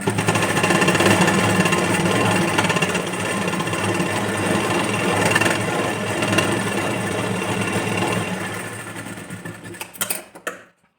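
A sewing machine stitching blouse fabric runs in a loud, fast, continuous mechanical rattle close by, then slows and stops near the end.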